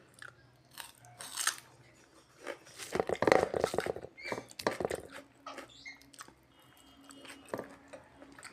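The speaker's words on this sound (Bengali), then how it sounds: "এই কাঁচা পেঁয়াজটা খেতে এত ভালো লাগে না, প্রচণ্ড ভালো লাগে।" Raw onion is bitten and chewed close to the microphone in repeated wet, crunchy bursts, with quiet pauses between bites.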